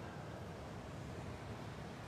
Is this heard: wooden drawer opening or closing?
no